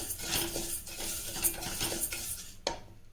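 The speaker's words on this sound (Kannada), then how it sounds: "ಫಸ್ಟಿಗೆ ನಾನು ಒಂದು ಕುಕ್ಕರಲ್ಲಿ ಈ ರವನ್ನ ಹುರ್ಕೊಳ್ತಾ ಇದ್ದೀನಿ" Broken wheat rava being dry-roasted in a pressure cooker, with a spoon stirring and scraping steadily against the metal, a faint sizzle underneath and a sharper clink near the end.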